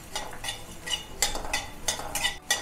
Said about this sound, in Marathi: सेम कढईमध्येच मी धणे टाकते. सगळ्यात आधी धणे भाजून घ्यायचे.